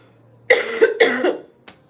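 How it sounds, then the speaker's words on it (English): A single person coughs twice in quick succession, close and loud, followed by a short faint throat sound, with quiet room tone before and after. "This cough."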